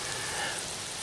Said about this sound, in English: And here comes a big gust.